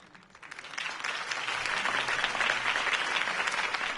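A video game crowd breaks into applause that swells within the first second and holds as steady, dense clapping to the end.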